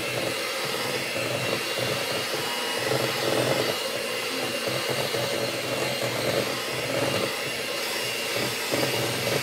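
An electric mixer on low creams room-temperature butter with brown sugar, giving a steady, close whirring motor hum with slight rattling variations throughout.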